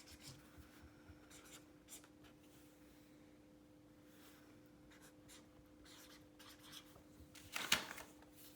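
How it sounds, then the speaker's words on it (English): Marker or chalk scratching on a board during an advanced math lesson, quiet intermittent strokes against a faint steady hum, ending in a louder brief scrape or knock near the end; no speech. "I'm going to write it down just so we can look at it."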